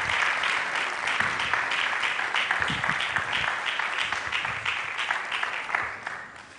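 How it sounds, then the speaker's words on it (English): A large audience at a school quiz mentorship session gives a speaker a round of applause. The clapping is broad and sustained, with a few voices under it, and it fades slowly toward the end. "A round of applause."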